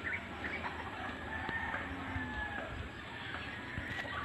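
Chickens in a farm coop cluck steadily at a moderate distance, with a rooster-like call and faint background activity throughout.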